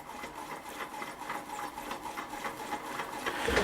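A Mr Power model steam engine running on a solid fuel burner tray, giving a quiet, rapid, regular mechanical chuffing and ticking rhythm, close and steady with no talk.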